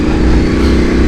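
A Yamaha Tenere 700 motorcycle's exhaust rumbles loud and close while riding, a dense, steady low drone with wind rush over it.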